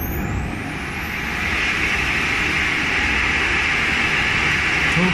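A SWIWIN SW80B model jet turbine engine on a test run throttles up to maximum RPM, a loud, steady roaring whine with broadband hiss that builds slightly and holds near the microphone, with no talking.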